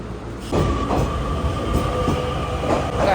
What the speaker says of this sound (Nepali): ट्रेन पनि आइसकेछ